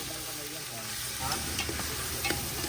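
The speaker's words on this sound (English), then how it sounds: "Saute these ingredients of the beef stew" Beef offal and meat sauté in a pot over a firewood fire for a beef innards stew, a loud steady sizzle with scraping stirs breaking through near the end.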